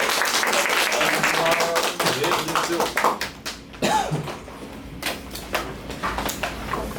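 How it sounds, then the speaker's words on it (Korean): Audience at the end of an early-morning fire insurance basics lecture claps in scattered, uneven bursts with tapping and shuffling noises, and some voices mixed in. "자, 박수 치면서 마무리 짓도록 할게요."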